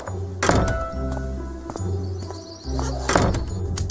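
A door is pushed open in a single heavy thunk, followed by a second similar knock a few seconds later, close and clear over a low steady hum with faint bird cooing in the background.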